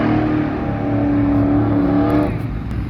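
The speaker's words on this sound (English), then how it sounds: "Heard rev limiter." A mud truck's engine screams against its rev limiter in deep mud, a loud sustained high rev with a stuttering edge that holds for about two seconds and then drops away.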